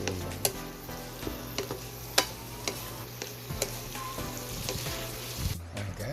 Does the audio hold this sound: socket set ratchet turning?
no